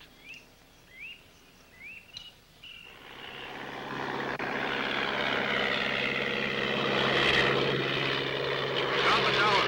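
A propeller airplane flying along the Shungaro River in the Amazon, carrying passengers, swells into a steady loud engine drone after a few seconds; bird calls chirp faintly at the start.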